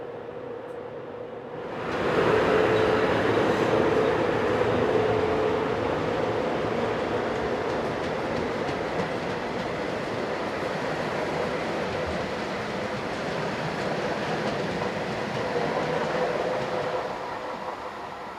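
A German class 111 electric locomotive hauls a passenger train bound for Forchheim, arriving with a rising rumble and then rolling past as a steady, loud roar of wheels and carriages with faint rail clatter.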